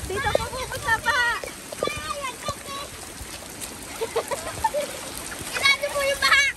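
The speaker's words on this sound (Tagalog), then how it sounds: "Kita niyo po ang baha. Yan po ang baha. Bahang-baha po." Floodwater during Typhoon Carina in San Antonio, Quezon, heard as irregular splashing and trickling close by, with voices, including a child's, speaking over it.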